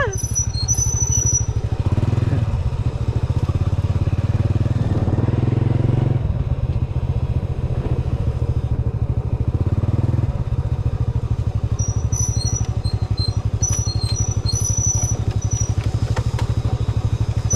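A loud, continuous motorcycle engine drones up close on a muddy rainy-season road, its pitch shifting as it labors, with occasional clatter, squeaks and rattles from a rough ride.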